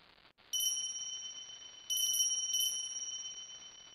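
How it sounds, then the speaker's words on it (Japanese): Clear small bell in a narrated ghost story set at an empty mountain station platform, giving three bright high rings over a quiet hiss, the first single and the later ones in quick clusters, each sustaining and fading. "澄んだ音が聞こえて目が覚めた。 リンという鈴の音だった。"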